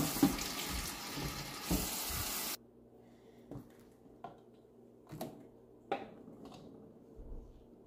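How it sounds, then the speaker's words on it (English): Running water from a tap streams loudly into a vessel for a couple of seconds and then stops, leaving quiet knocks and clinks from handling the container. "let's fill it up with water and see how it works"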